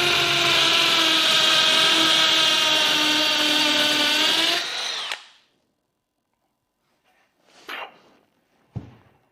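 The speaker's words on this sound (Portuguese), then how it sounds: "vamos mudar para a furadeira de impacto e ver se isso fica mais rápido" A loud cordless hammer drill whines and rattles steadily for about five seconds, then stops; a couple of sharp knocks follow in the silence.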